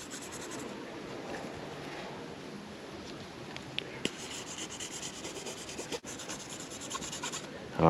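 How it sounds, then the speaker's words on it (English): Layered clear coat being flaked off car paintwork, a continuous close scratchy rubbing and scraping with a few small clicks, steady in level throughout. "we're going to flake that one off. And we're going to try to smoothen it"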